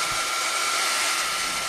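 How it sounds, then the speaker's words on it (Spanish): A household hair dryer blows steadily with a constant high whooshing hiss and a fixed motor whine, loud and close with no speech. "o el secador de pelo."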